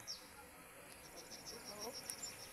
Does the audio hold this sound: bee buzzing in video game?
yes